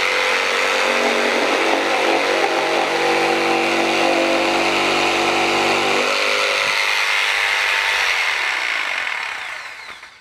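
A Mafell P1CC jigsaw fitted with a long wood blade cuts through a wooden beam with a loud, steady, close-up buzzing whine. The tone shifts partway through, then the saw winds down and fades at the end.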